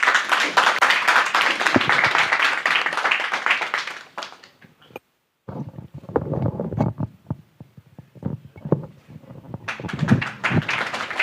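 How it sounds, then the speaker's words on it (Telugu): Church congregation clapping together in a loud burst of applause, fading to scattered claps and taps after a brief gap, then swelling again at the end. "అందరూ చప్పట్లు కొడదాం."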